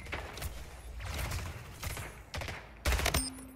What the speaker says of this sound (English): He was just like blind firing at me.